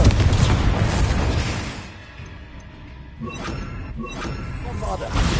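Confringo blasting spells go off in Hogwarts Legacy, giving heavy booms with shattering crashes and whooshes, loud and close, with a quieter lull in the middle before another burst of blasts.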